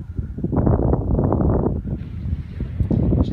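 Wind gusts beside a lake buffet the microphone in a close, rumbling, uneven rush that lasts the whole short moment, with no voice heard.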